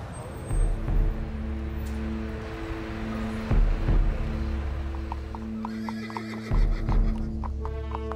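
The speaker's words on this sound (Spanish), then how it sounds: "puso su caballo al trote" A horse neighs loudly several times in a row, with hoof clip-clop beneath and faint road traffic in the background.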